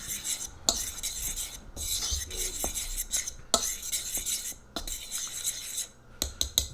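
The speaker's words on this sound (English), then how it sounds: "We're going to add some sugar, salt, baking powder. Let's get this stirred up a little bit." Utensil scraping and clinking against a mixing bowl while stirring flour, sugar, salt and baking powder together, with repeated sharp taps and a steady gritty rasp throughout.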